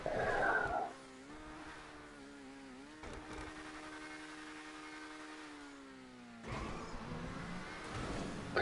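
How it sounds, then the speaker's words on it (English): A race car in GTA Online stunt racing holds a steady engine drone down a straight, its pitch wavering slightly, with louder tyre and track noise at the start and end. "The engine singing for about halfway down that straight, two wheels just going over the edge of the track."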